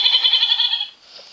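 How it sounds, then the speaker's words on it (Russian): A young goat gives a single loud, close, quavering bleat lasting close to a second, followed by a brief quiet tail. "Козленок."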